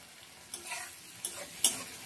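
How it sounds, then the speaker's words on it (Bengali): Ground spice paste sautéing with softened onion and tomato for kofta curry in a pan, a soft low sizzle with a few sharp spoon scrapes and clicks against the pan, close and fairly quiet. "এবার সব কিছুতেই ভালো করে কষিয়ে নেব।"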